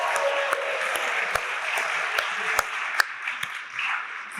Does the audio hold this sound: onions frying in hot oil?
no